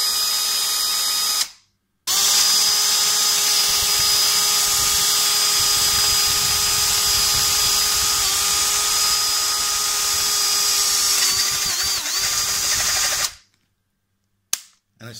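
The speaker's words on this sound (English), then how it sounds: "get your drill head of the 25mm, put it right in the middle there and start drilling" Power drill fitted with a 25mm bit boring through a plastic Dettol no-touch dispenser, a loud sustained whine with shifting pitch running for about eleven seconds, cut off by brief silences near the start and end.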